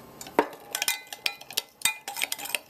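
A spoon stirs coleslaw dressing with sugar and vinegar in a bowl, making quick, close clinks and scrapes in an uneven rhythm, fairly quiet and with no talk.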